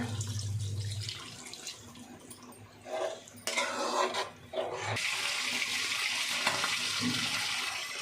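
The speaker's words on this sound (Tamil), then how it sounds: "கொஞ்சமாக தண்ணி சேர்த்துக்கலாங்க." Water poured into a pan of simmering gongura chicken curry, a splashing, hissing pour that swells and fades in bursts over steady cooking sizzle, close and fairly quiet with no talking.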